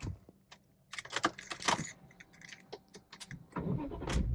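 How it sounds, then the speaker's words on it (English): A BMW E46 CSL with SMG gearbox and a VANOS rattle being started, with rapid clicks and rattles from the ignition and key, then a rising rumble as the engine turns over near the end, fairly quiet and close. "Let's see if the car still starts."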